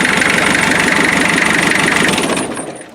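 A loud 2.5-litre naturally aspirated diesel engine runs steadily with a rough, knocking rattle, then begins to fade toward the end.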